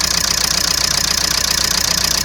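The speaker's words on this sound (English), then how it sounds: "So we're gonna keep running the engine" A Ford S-Max engine with a faulty head gasket, treated with K-Seal repair, idles roughly nearby with a steady, uneven, pulsing rumble and faint knock throughout.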